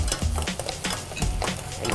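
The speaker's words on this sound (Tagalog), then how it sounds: "Igisa natin itong sibuyas." Onion and garlic sautéing in a pan, a steady oily sizzle broken by repeated scraping stirs of a utensil, close and clear with no talk.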